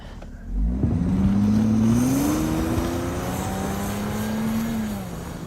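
Audi Q7 quattro SUV accelerating hard, its engine tone rising steadily and holding a strong, close drone for several seconds before easing slightly, with no talk over it.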